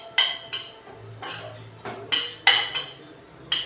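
Peanuts stirred in a pan over low heat, with spoon-on-pan clinks and scrapes; sharp metallic knocks come at irregular intervals above a low steady cooking hiss.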